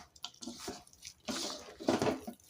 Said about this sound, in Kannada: ಇವಾಗ ಸ್ವಲ್ಪ ಸ್ವಲ್ಪ ನೀರು ಸೇರಿಸ್ಕೊಂಡು ಕಲಿಸ್ಬೇಕು